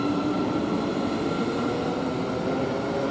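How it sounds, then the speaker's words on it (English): A Thameslink Class 700 train pulls out of Potters Bar station with a steady, broad rumble and whine that holds evenly, fairly loud and with no voices. "and then also leaving is the Thameslink 700"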